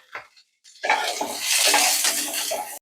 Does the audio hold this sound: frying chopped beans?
yes